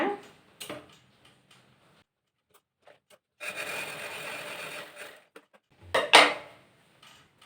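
A sewing machine stitches chudithar pants in short runs: a couple of seconds of fast mechanical whirring, then a quieter pause, then a second brief burst, with small clicks and handling sounds between.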